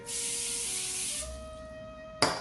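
A steady cooking-spray hiss sprays onto a baking sheet for about a second, a faint hum and tones follow, then a short burst of spray ends it.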